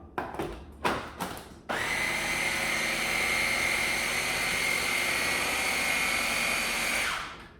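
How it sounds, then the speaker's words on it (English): A stand mixer whirs steadily through thick lemon cake batter, its motor droning loud and close for several seconds after a few knocks, then winding down at the end. "the motor's starting to bog down"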